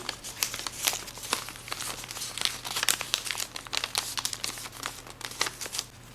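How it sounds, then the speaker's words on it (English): Paper being folded into an origami flapping crane, with close, continuous crinkling and crumpling as the flaps are pressed over, and small sharp rustles throughout with no talking. "Now what you want to do is you want to just fold these flaps over"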